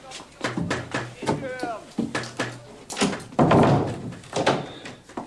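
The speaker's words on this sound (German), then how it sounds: "Machen Sie die Tür zu." A door is shut with a solid thunk amid a tense argument, as raised voices talk over and around the closing sound.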